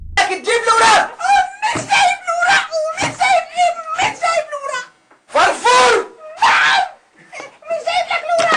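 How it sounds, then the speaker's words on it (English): Screams, whimpers and shrill laughter rise from a scene in a children's television show, Tomorrow's Pioneers, in which an official attacks the character Farfour. The voices come in frantic bursts, mixed with excited shouting and speech. "The official begins attacking Farfour while screams can be heard in the background"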